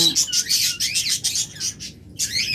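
Pet lovebirds, budgerigars and Java sparrows chirp and squawk in rapid, overlapping bursts, near and fairly loud, with only a brief pause.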